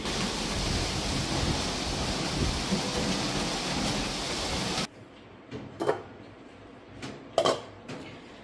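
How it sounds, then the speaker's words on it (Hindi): Dense, steady roar of heavy rain for several seconds, then it cuts to a quieter background with a few faint rustles and soft knocks. "अब इस टाइम तक फिर से ज़ोरदार बारिश आ गई।"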